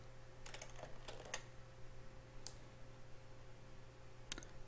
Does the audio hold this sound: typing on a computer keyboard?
yes